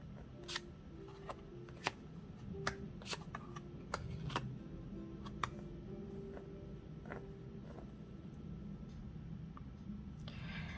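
Tarot cards are shuffled by hand in light, irregular flicks and snaps, quiet and close against a soft background.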